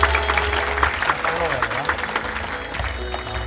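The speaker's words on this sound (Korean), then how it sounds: "한 분 한 분 소개해 드릴 때마다 뜨거운 박수를 부탁드립니다." An audience at a book concert in a university arts hall claps warmly as a panelist is introduced, steady applause running throughout while an announcer's amplified voice speaks over it.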